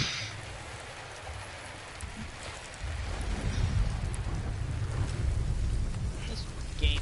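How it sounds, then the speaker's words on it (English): Steady rain falls in the video game Death Stranding, a dense hiss that grows fuller and heavier partway through, with a low rumble underneath, and no talking. "No, Norman, don't let the rain get on you."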